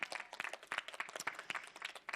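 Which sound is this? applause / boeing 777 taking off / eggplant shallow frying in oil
applause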